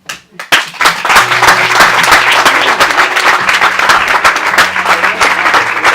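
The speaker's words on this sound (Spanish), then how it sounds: "Un aplauso para Laura." An audience at a poetry slam bursts into loud, sustained applause, dense clapping filling the whole stretch with a few cheers mixed in.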